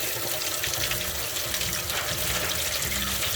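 Coolant pouring steadily from the water pump area of a 2008–14 Dodge Avenger with a 2.4L engine into a catch pan, a continuous close splashing, trickling rush with no pauses.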